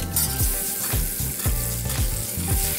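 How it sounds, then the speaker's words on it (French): Butter melting in a pan for a Mornay sauce, giving a close, steady crackling sizzle with rhythmic scraping strokes of a utensil stirring it. "Mon beurre est fondu."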